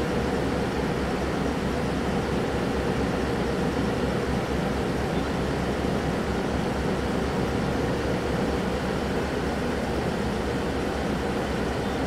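Station hum at the Hanoi railway station where trains leave for Saigon, a steady low rumble of idling train and traffic noise heard up close and continuously, with no talk over it.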